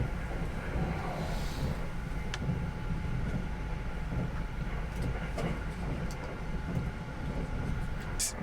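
Steady low rumble and hiss of a Japanese sleeper train running on the rails near Okayama, heard from inside the car as a continuous moderate drone with a few faint clicks and no talking.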